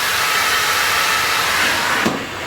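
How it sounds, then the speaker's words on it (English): A Bosch Series 8 steam iron releases a steady, loud blast of steam, a continuous broadband hiss that holds unbroken for about two seconds and then eases slightly, with no voices. "if I pull the trigger now, you will see the steam"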